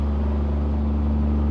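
Steady low diesel drone from a Cummins 5.9 truck fitted with a 5-inch Magnaflow muffler, driving in town, heard from inside the cab with the windows cracked; a constant, loud idle-like hum with no talking.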